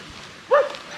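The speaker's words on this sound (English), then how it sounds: "why is this dog barking?" A single short bark from a dog somewhere outside, fairly loud and sharp against a quiet background, ringing briefly before fading.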